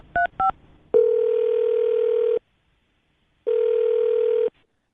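Two short touch-tone beeps, then a steady telephone dial tone holding for about a second and a half, a pause of silence, and the tone returning for another second; clear and close with no talking.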